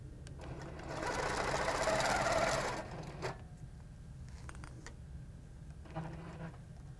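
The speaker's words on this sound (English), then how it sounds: "Stitching up and stitching down." A sewing machine fitted with a ruler foot stitches alongside a dual-edge ruler in one steady, fairly loud mechanical run of about two seconds, then stops, leaving only quiet room noise.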